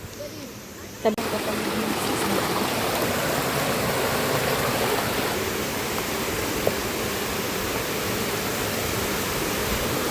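River flowing, a steady loud rush of water that starts abruptly and continues unbroken throughout, with faint voices beneath it.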